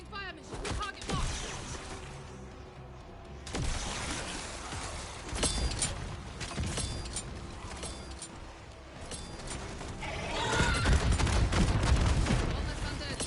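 An artillery fire mission strike in the video game Call of Duty MW3 Zombies, with scattered heavy blasts and bursts of fire that build into a louder rumbling barrage near the end, under game voices.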